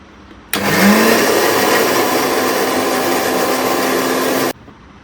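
A blender grinds aloe vera for a hair mask, starting abruptly and running as a loud, steady, high-pitched whirring drone for about four seconds before cutting off.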